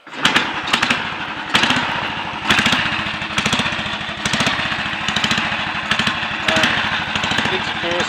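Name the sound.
Royal Enfield 250 Clipper motorcycle engine starting and running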